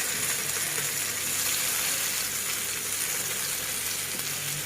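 Potatoes fry in oil for an egg and potato curry, a close, even sizzle with a bright crackling hiss that holds steady throughout, no voices.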